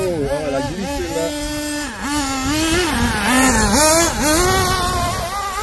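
Kyosho Inferno Neo and Hobbytech NXT RC buggies accelerate on a dusty track, small engines whining up and down in pitch through repeated revving surges, close by, with voices talking over them.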